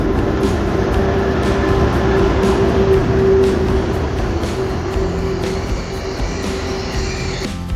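A train pulling into a station on a metro or rail line in Busan, a steady loud rumble of wheels and carriage noise with a held tonal whine that fades toward the end as it slows.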